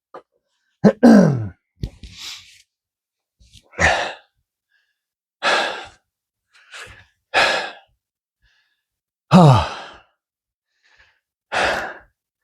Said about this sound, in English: Whenever I start weights, or start cardio, I always clear my throat for ages.